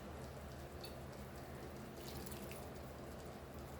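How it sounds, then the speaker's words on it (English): Water pours steadily into a pan of red amaranth greens being cooked in a Goan home kitchen, a faint continuous running trickle with no talking. "now we'll add little bit of water to this and cook this for few minutes"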